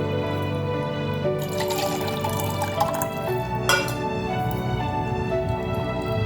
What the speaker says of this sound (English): I'm going to add a little bit of extra water because I got to rehydrate my vegetables